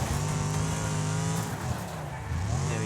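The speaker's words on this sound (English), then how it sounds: "I think it's just spinning its wheels and we're not really firing ahead very much" Race car wheelspin on dirt in the video game Wreckfest: a loud, continuous engine roar with spinning tires, steady throughout with a slight dip midway, no voices.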